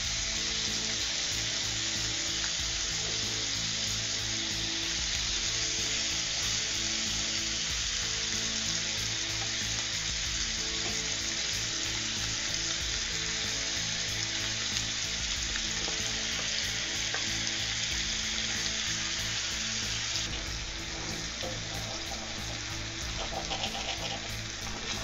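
Scallops fry in butter with shallots and peppers, giving a loud, continuous hiss and crackle that holds steady throughout, with a few faint utensil movements near the end.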